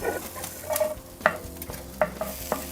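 Chopped onions sizzle steadily in olive oil in a pan, with a few sharp clicks and scrapes of stirring over the constant frying hiss; no one speaks.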